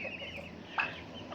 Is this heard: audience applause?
no